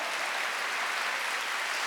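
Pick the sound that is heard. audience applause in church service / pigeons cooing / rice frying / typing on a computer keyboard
audience applause in church service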